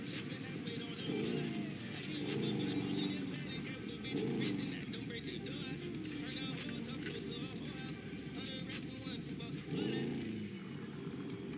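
A motorbike engine in the video game GTA 5 runs continuously, rising and falling in revs with several throttle surges, while someone talks over it.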